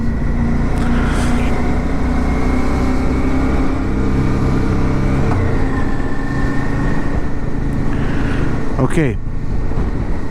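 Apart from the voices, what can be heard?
motorcycle riding through a coastal town in Croatia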